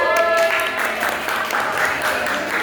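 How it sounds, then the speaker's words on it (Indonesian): Sixth-grade pupils in an Indonesian microteaching class clap together, a moderate, continuous patter of many hands filling the room for a couple of seconds. "silakan duduk dan tepuk tangan kita semuanya"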